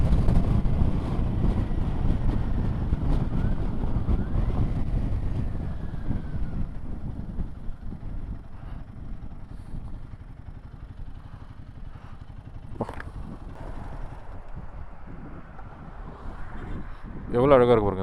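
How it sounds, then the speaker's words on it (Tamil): Heavy wind from Cyclone Fengal buffeting the microphone while riding a Royal Enfield Himalayan 450 motorcycle in drizzle, a constant low roar that eases midway and gusts again near the end, with a voice speaking over it. "லைட்டாக காற்று புசுன்னு தள்ளுது."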